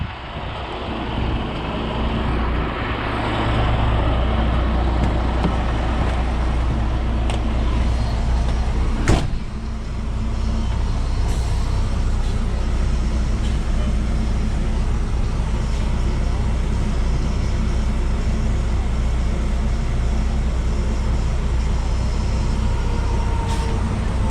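An International 9200 grain tender truck, wiring chewed by a rat and air lines ripped out, backs up to be towed, its steady low engine rumble running close and loud throughout, with a sharp knock near the middle and people talking over it.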